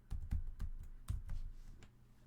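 Someone types a password on a computer keyboard, producing a quick, uneven run of close, soft key clicks over about two seconds.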